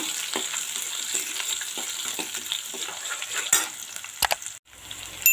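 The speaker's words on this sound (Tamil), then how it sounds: "வெங்காயம் வதங்கிட்டுருக்குங்க" Small shallots sauté in hot oil with a steady crackling sizzle, broken by a few louder stirring scrapes and clinks toward the end before a brief pause.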